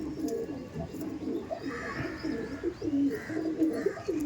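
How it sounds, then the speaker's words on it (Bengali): A male pigeon in a Kaldom Laldom loft in Barasat coos in repeated low, throaty phrases, steady and fairly close, with other birds chirping faintly behind. "এই দেখুন এটা হচ্ছে নর পায়রা"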